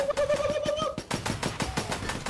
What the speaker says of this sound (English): Oh my God! I got sniped.